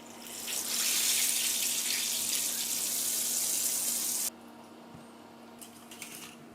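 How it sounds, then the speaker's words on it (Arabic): Chicken pieces dropped back into hot oil for a second fry, a loud dense hiss and crackle that runs steadily for about four seconds and then cuts off abruptly, leaving quieter ambient sound. "هرجع بقى الفراخ في الزيت تاني"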